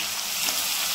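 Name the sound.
spiny gourd (kakrol) frying in oil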